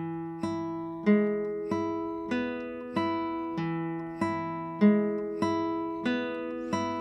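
A classical guitar plays the opening two measures of Malagueña, about ten clear plucked notes in an even, measured rhythm, each ringing and decaying. The instrument is solo and close.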